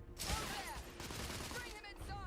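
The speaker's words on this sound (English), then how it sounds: "Igraine, lay down suppressive fire" Dense bursts of rapid gunfire lay down suppressive fire in a horror video game, a sustained rattling fusillade, loud and continuous with brief lulls, while voices shout underneath.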